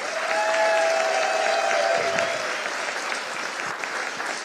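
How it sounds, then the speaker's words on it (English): An audience claps steadily at a chamber of commerce annual meeting breakfast, a dense, fairly loud round of applause that slowly tapers off. "Would you give that woman a round of applause?"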